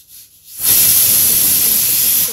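A pressure cooker boiling pasta vents a sudden loud, steady jet of steam hiss that starts after a quiet moment and keeps going without a break.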